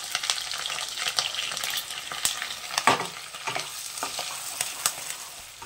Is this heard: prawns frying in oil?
yes